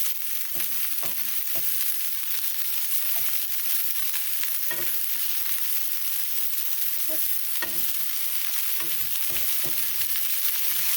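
Teriyaki chicken browning in a pan sizzles steadily throughout while a utensil scrapes and stirs in repeated irregular strokes, close and fairly loud, with no talking.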